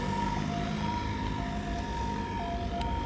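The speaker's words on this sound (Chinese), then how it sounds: "先让救护车过去。" An ambulance siren wails on a road, its two-tone pitch alternating steadily at a moderate distance over a constant low traffic rumble.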